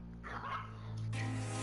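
A dog gives a short run of barks and yips, close and fairly loud, over a steady low hum in an indoor room.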